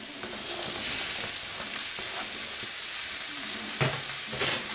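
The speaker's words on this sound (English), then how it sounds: "I'm going to throw in my onions. Right on top of the mushrooms" Onions dropped on top of mushrooms in a hot pan for chuck steaks with mushroom and onion cream gravy, a close, steady crackling sizzle with a couple of brief scrapes, no one talking.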